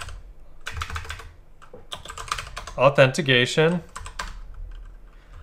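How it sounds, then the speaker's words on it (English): Computer keyboard typing a command, quick bursts of key clicks close by, mixed with someone talking over them. "The next thing we need to do is type AAA"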